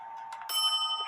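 The bell of an 1870s Black Forest Biedermeier box clock with a wooden plate, a non-original replacement, gives a single clear bright ring that sustains and slowly fades, close and alone.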